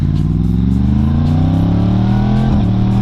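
A 2018 Yamaha MT-10 (FZ-10) fitted with a Pipe Werx exhaust, heard on the move from close by as a loud, steady engine drone that climbs in pitch, with a quick dip near the end like a shift.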